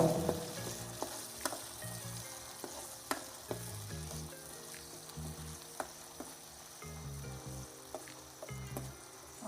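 Onion paste frying in oil for a hill goat mutton curry, a soft continuous sizzle with periodic sharp spoon taps against the pan, while background music plays quietly.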